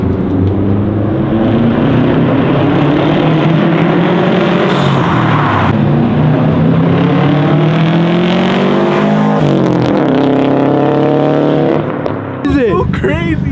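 Subaru STI with a fresh tune revving hard on a dyno, a loud, sustained engine roar with rising and falling pitch sweeps over about thirteen seconds, close and dominant.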